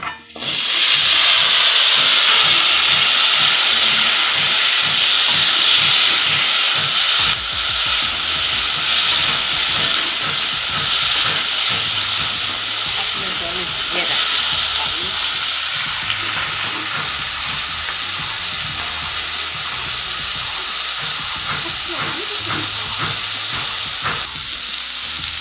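Cut potato pieces sizzle steadily in hot oil for a rui fish curry, a loud continuous frying hiss with small crackles and a few stirring scrapes throughout.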